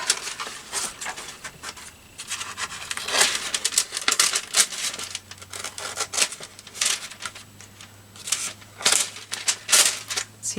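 Scissors snipping and crinkling through a paper security envelope, a run of quick dry cuts and rustles up close, with a faint low hum beneath.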